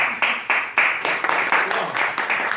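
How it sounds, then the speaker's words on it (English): A crowd at a live gathering bursts into steady applause, many hands clapping close and loud in a dense, continuous patter that fills the whole moment. "Round of applause."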